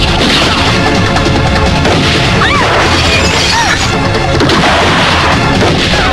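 Loud, dense barrage of gunfire and crashing impacts in an action film scene, continuous booms and smashes filling the whole passage with no pauses.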